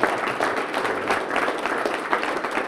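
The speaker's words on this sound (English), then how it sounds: "Give him a big round of applause." Studio audience on a horseshoeing show claps for a guest, a brief burst of lively, slightly uneven applause.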